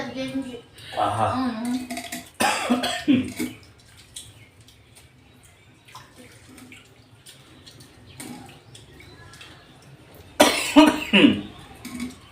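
A few harsh coughs break up intermittent speech, with some running-water and dish noises in the background.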